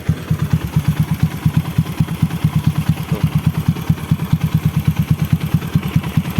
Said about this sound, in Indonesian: Kondisi langsamnya nggak pincang, nggak nyendat, aman banget.